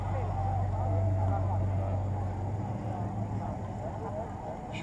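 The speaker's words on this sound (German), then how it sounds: "Ich höre schon, wie der 8-Zylinder blubbert." At a classic car rally, a 1968 Pontiac Bonneville with a 6.6-litre V8 produces a low, steady burbling rumble that runs throughout, with a public-address voice speaking over it.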